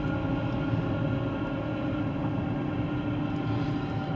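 A steady low road roar with a faint whine underneath fills the cabin of a 2013 GMC Terrain while driving, constant and unchanging throughout, with no voices.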